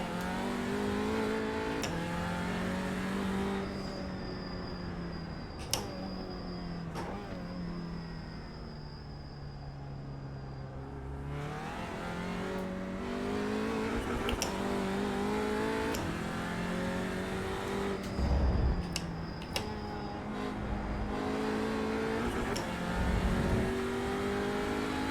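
An Audi TCR race car is driven around the Laguna Seca track, its engine droning and revving steadily as it climbs and drops through the gears, with a few sharp clicks and shifts along the way.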